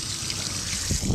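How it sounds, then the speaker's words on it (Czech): Drinking water runs from a tap into a container, a steady trickling splash with a low gurgle building toward the end, heard alone. "Takže nabral jsem si pitnou vodu"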